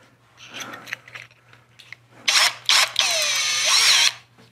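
An ENVENTOR 20V cordless drill with a standard bit bores holes in short bursts: a few light clicks and brief whirs, then two quick high-pitched spins and a sustained, loud whine that stops abruptly, close up with no talk.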